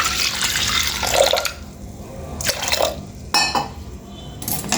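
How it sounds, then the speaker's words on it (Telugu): Water poured into washed lentils for tomato dal, a splashing, running pour broken into a few bursts, with faint clinks of a pot between them. "సరిపోయినంత వాటర్ వేసుకుందాం"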